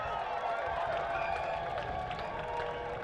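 A stadium crowd at a One Knoxville SC versus Northern Colorado Hailstorm FC soccer match keeps up a steady, dense roar of cheering and chatter from many voices, with no single clap or shout standing out.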